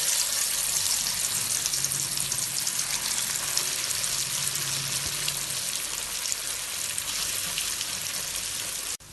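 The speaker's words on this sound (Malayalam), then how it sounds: "ഇനി എടുത്തു വെച്ച മീൻ ഇതിലേക്കിട്ട് പൊരിച്ചെടുക്കാം" Fish frying in hot coconut oil in a clay pot, a steady dense crackling sizzle that runs unbroken and loud for the whole stretch, with no voices.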